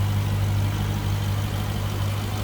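A supercharged 6.2-liter Hellcat V8 in a 2020 Jeep Grand Cherokee Trackhawk idles close by with a deep, steady rumble and a constant low hum, unbroken throughout.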